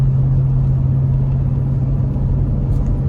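A 2017 Jeep Grand Cherokee SRT towing a 24-foot open trailer, its engine a steady, close low hum with constant road rumble throughout, no talking.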